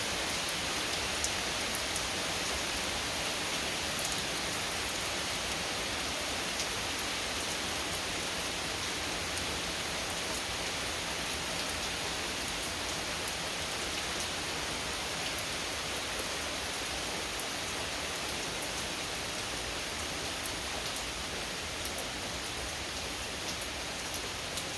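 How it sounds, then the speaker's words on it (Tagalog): Steady, hissing rain falls continuously in the woods, a soft even wash of droplets with no voices and no breaks. "Ayan, pahinto ang ulan."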